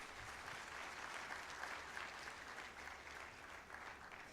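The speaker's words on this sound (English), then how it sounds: "Can you people clap for this team?" An audience at an open day for Grow loan beneficiaries claps for a team, a steady, fairly distant patter of applause that holds evenly throughout.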